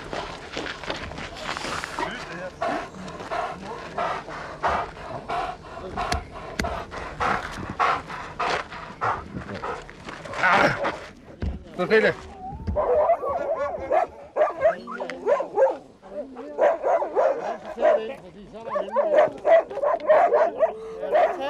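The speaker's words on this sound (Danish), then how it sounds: "Det var hunden." Sled dogs on an Arctic sled journey barking, yipping and panting close by in bursts, with someone speaking among them.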